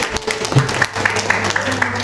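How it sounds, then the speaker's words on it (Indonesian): An audience at an indoor product presentation gives a short round of applause, steady clapping that carries under nearby voices. "Tepuk tangan dulu sekali lagi ya."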